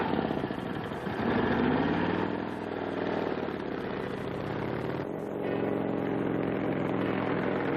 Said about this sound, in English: Sounds like a motorcycle coming.